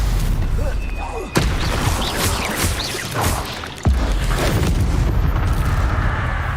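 Confringo blasting spell explosions in Hogwarts Legacy: two sharp booming blasts land a few seconds apart over a dense, continuous bed of combat noise and magical whooshes.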